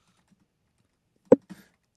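A computer keyboard tapped in near silence: one sharp keystroke followed by a softer double click, close and brief.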